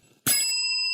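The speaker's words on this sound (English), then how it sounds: "you will hear a bell or 2 or 3 like this" A single bright bell strikes once after a short silence and rings on with a clear sustained tone, close and alone.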